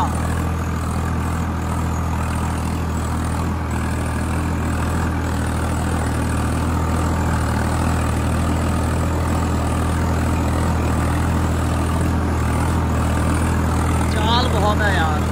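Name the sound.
Swaraj 855 4x4 tractor engine running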